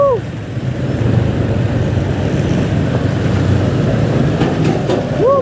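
A truck passing in heavy traffic on a road near NLEX, heard from a motorcycle as a loud continuous engine and road rumble with brief horn-like tones at the edges.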